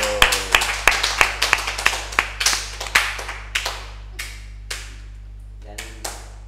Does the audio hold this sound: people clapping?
yes